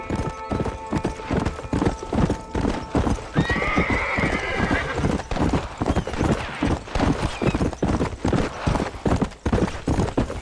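Horse galloping in Red Dead Redemption, with a steady rapid clip-clop of hooves and a neigh partway through, loud and continuous under game sound.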